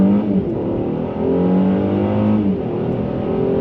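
A Mercedes-Benz E450 with all-wheel drive pulls hard from a standstill at full throttle, its engine note climbing through rising harmonics, dipping briefly at a shift, then surging again, loud and close from inside.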